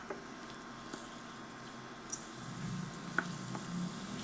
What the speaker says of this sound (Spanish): Una vez que la mantequilla se derritió por completo y los vegetales han sudado